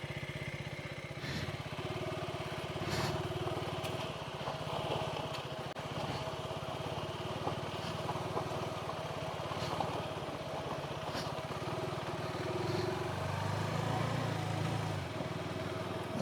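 A motorcycle rides a rough, broken mountain road near Kalimpong, its engine droning steadily and close throughout with rattling and bumps over the uneven surface, no talking.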